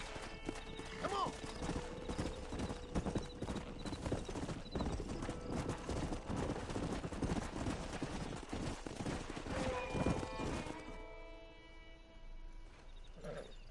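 Horse hooves clip-clopping in the game Red Dead Redemption, a dense, continuous rhythmic clatter of a running stallion mixed with whinnies and game effects, fading out near the end, with voices talking over it.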